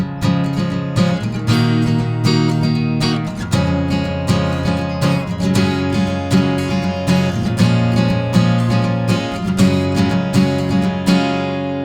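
Acoustic guitar strummed with a mix of downstrokes and upstrokes in a steady rhythmic pattern for a worship song, close and loud with no voices.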